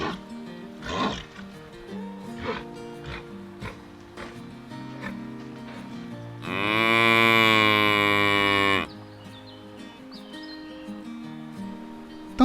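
Cattle on a farm moo and low, with short calls early on and one long, loud, harmonic moo in the middle, heard alone without talk.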